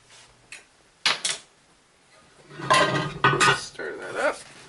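Dry Cajun seasoning, onion powder and garlic being stirred in a metal pot for duck and oyster gumbo, heard as a few scattered scraping clinks followed by a denser run of stirring scrapes, close and fairly loud.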